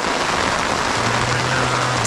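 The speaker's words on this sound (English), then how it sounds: "It's getting worse, and then the hail is getting bigger." Hail and rain fall during a storm high in the Sierra Nevada mountains on the John Muir Trail, a loud, dense, steady hiss of drops striking close by, with a low hum appearing partway through and no speech.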